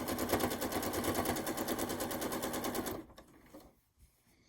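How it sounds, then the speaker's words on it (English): A sewing machine stitching quilt-as-you-go courthouse steps layers together, a fast steady close mechanical chatter that runs for about three seconds and then stops, leaving faint handling noise. "I'm confident that I can sew the layers together"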